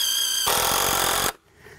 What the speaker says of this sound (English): When you're working with the screw gun, one of the benefits is if you have a piece of wood that's twisted, you can line up the bottom, okay, screw it in